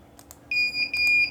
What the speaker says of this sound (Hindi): हार्ड डिस्क नहीं होने से आपका बीप साउंड भी देगा डीवीआर में।